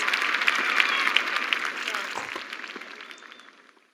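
A tennis crowd in a stadium roars and claps for a Serena versus Venus Williams match, a dense steady wash of cheering and applause that slowly fades away toward the end.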